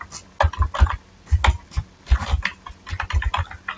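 Code typed on a computer keyboard: quick, close clusters of crisp key clicks and taps in uneven bursts with short pauses between them.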